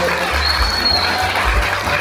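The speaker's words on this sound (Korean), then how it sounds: "한 박수 부탁드립니다" Seminar audience in a large auditorium applauding a speaker's introduction, a steady, even patter of many hands clapping over a low rumble of room noise, with no pause.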